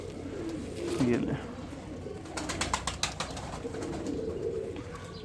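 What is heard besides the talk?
pigeon cooing while being held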